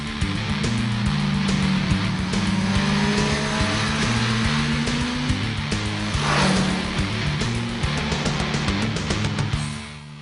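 A Kawasaki Z1000 motorcycle on the road, its engine droning steadily with rising and falling revs as it accelerates through gears, close and loud throughout, with no voices.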